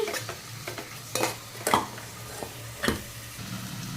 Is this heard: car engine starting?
no